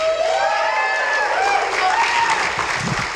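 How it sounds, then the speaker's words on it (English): A town hall crowd applauds and cheers loudly, steady clapping with high whoops and shouts rising above it for a few seconds. "Can we get another big round of applause for you all?"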